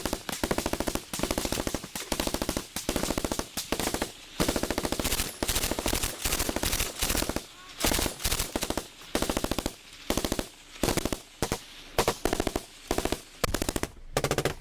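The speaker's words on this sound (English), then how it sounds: "we see them firing at the hill here" Machine-gun fire in Ukraine war footage, aimed at a hill: long sustained bursts of rapid, evenly spaced shots, loud and close, broken by brief pauses between volleys over about fifteen seconds.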